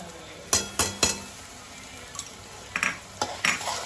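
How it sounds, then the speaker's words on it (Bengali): A spoon stirs and scrapes a masala of lightly browned onion, ginger-garlic paste, salt, cumin, turmeric and chili powder in a pan. Sharp, close clinks come in small clusters over a faint background sizzle. "মশলাটা ভালো করে কষিয়ে নেবো"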